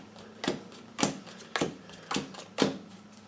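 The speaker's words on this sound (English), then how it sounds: "I'm going to shuffle these a little more." Tarot and oracle card decks are shuffled by hand, giving five sharp, evenly spaced papery slaps about half a second apart, close and clear over a quiet room.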